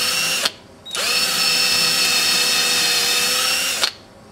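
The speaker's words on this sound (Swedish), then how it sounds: "Och nu sätter jag igång och borrar." A hand-held electric drill bores a hole, running loud and steady for about three seconds after a short start and stop, its motor whine holding an even pitch before cutting off.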